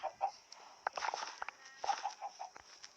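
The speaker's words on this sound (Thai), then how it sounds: "ไก่ออกหมดเลยอะ" Video game chickens in Minecraft cluck and squawk in short, scattered bursts, fairly quiet and close, with light scuffling between calls.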